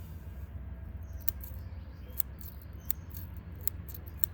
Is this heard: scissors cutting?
yes